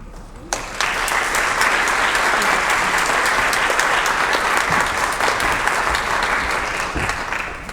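Clapping from an audience at a university lecture breaks out after a brief quiet start, then holds as a thick, even wash of applause before easing slightly at the end.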